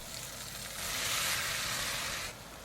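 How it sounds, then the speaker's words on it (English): Chorizo and vegetables frying in a red pan, a steady close hiss of sizzling that swells louder midway and then eases back, with no voices. "Add our chorizo into the lady in red pan. Cook it for about 7 minutes and add your veggies."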